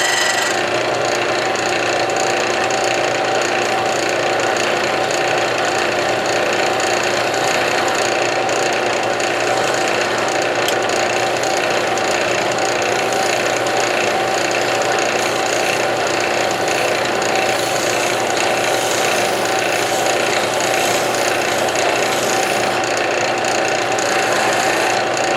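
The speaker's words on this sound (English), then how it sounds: "Now we'll use the skew again and smooth that down, get it back down to the surface of the rest of the wood." A wooden pen blank for a double-barrel fountain pen spins on a lathe while a skew chisel smooths it down, a loud continuous whirring and scraping that holds steady throughout.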